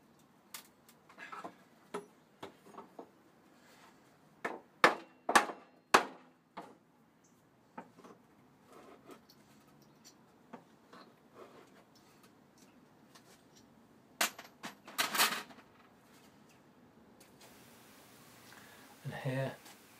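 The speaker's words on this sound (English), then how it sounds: "Hitting the slat with a sharp tap then makes the nail stick its head above the slat, and you can then get the hammer in, claw hammer, and prise the nail out." A claw hammer taps a wooden gate slat and prises out nails, giving irregular sharp knocks and a few louder cracking clunks spread over the stretch, with quieter creaks between them.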